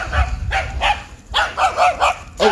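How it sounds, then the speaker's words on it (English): Several dogs bark at a person passing on foot, loud and close, in repeated short bursts with a few yips and whimpery notes between. "Immediately attacked by dogs here."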